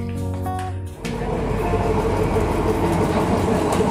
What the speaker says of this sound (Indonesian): Ini kereta yang kita gunakan, jadi warnanya kuning seperti ini